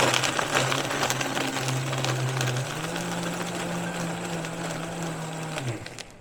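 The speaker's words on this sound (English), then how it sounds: "Vitamix just crushes that ice" A Vitamix blender runs continuously crushing ice, a loud steady motor drone with rattling, grinding texture that shifts pitch partway through before winding down, close up and with no voices.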